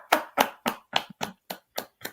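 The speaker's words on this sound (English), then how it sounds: "Listen, I'm just gonna clap for you" A person claps their hands eight times in a steady, evenly spaced rhythm, each clap sharp, close and clear with silence between.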